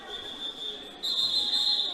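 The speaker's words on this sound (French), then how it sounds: "on a deux fautes qui sont sifflées à la suite côté titanesque" A referee's whistle at a roller derby match sounds in two sustained shrill blasts, the second louder, over faint arena background noise.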